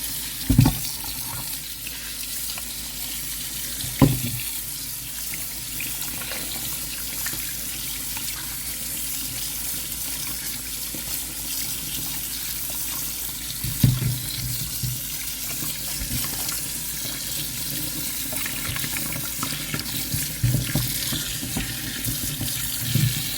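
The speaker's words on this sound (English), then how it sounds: "Okay, let me wash it off." Harvested ginger rinsed under a running kitchen tap, with a steady hiss of water and a few louder splashes and knocks as the roots are turned in the stream.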